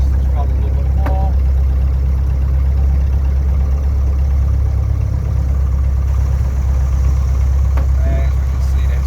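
An AVserv O-200E aircraft engine runs steadily on a test stand as the throttle is eased up, a loud, low, constant drone with no break across the clip.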